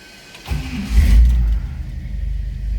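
1957 Chevrolet Bel Air four-door hardtop V8 engine starting up, a brief starter crank then the engine catching with a deep, loud rumbling surge that settles into a steady low idle, close by.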